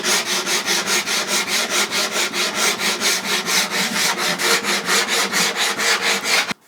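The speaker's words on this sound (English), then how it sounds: "If you have sandpaper on a stick like this for the flat" A wooden cupboard door being sanded by hand with sandpaper wrapped on a stick, a steady rhythm of about three close, loud back-and-forth rasping strokes per second that continues with no pause and no voice.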